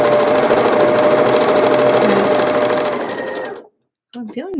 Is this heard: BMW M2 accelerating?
no